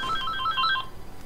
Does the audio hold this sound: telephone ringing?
yes